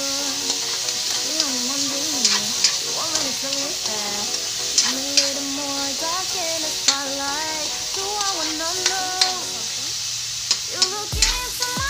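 Tomatoes frying with radish in a pan for ginisang labanos, a steady close sizzle with intermittent clinks and scrapes of a utensil stirring, while a voice speaks over the cooking.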